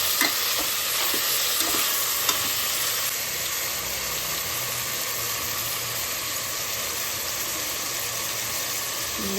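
Tomatoes frying in hot oil for mutton keema biryani, a steady loud sizzle with occasional scraping stirs of a spoon in the pan, continuous and close throughout.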